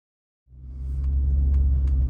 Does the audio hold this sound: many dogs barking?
no